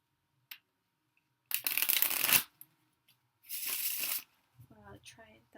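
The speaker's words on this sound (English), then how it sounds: "And at first I'm gonna shuffle the cards." Tarot cards being shuffled by hand, two distinct bursts of riffling and crinkling separated by a pause, close and moderately loud, followed by brief speech.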